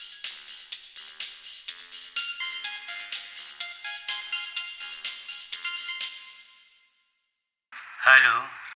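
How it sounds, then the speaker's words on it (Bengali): A mobile phone ringtone plays loudly in a bright, repeating chiming pattern for about six seconds, then stops; after a short silence a brief voice sounds. "এই সময় আবার কে ফোন দিল?"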